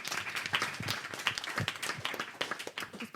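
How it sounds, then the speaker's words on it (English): A studio audience applauds volunteers at a live learning event, a dense burst of clapping filling the room for a few seconds, steady and fairly loud throughout. "Can we have a round of applause for all of you"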